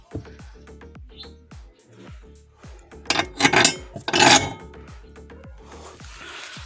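A screwdriver pries a plug cover off a ZAZ Tavria car, near its tow hitch. Small ticks and knocks lead into loud, close rasping scrapes in the middle, then softer rubbing, with a voice talking at times.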